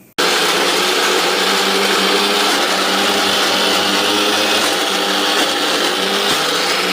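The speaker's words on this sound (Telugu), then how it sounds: "ఇప్పుడు దీన్ని నేను చింతపండు తొక్కుని మిక్సీ వేస్తున్నా" Mixer grinder whirring loudly and steadily as it grinds half a kilo of tamarind smooth, a continuous dense motor roar with no pauses, starting abruptly at the switch-on.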